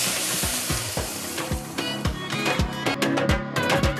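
Chicken frying with spices in a hot pan, a loud, dense sizzle with rhythmic scraping thumps of a spoon stirring the pieces, steady and close throughout.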